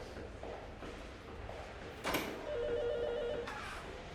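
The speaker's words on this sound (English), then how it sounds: "Phone's ringing." A telephone rings indoors, a steady two-tone electronic ring holding for about a second, over a quiet room with a brief knock just before it.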